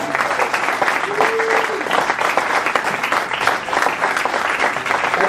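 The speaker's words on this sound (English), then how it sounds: "Let's hear a great big round of applause for Congressman Holt." Sustained applause from a political rally audience in Bridgewater, NJ, greeting Congressman Holt; dense, loud, close clapping that continues steadily throughout.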